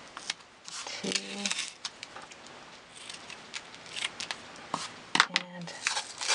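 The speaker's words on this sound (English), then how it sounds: "Looking for my big black scissors." Big black scissors snip through washi tape in several short crisp cuts, with small rustles of tape and card handling between them, close and fairly quiet.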